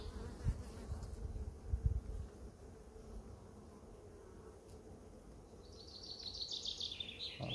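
Honeybees hum steadily at an opened hive during a colony merge, a continuous close, even drone with a few louder low thumps early on and a brief bright buzz near the end.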